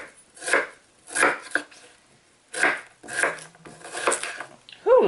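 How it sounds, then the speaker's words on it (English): A knife chops onions on a cutting board in a home kitchen, bursts of quick close thumps in uneven groups separated by short pauses, with no talking. "don't fuss at me for my onion chopping"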